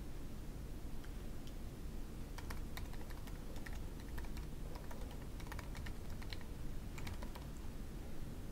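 Quick, uneven keystrokes clatter on a computer keyboard at close range as account details are entered on a Mac, a continuous run of light taps over faint background hiss with no speech.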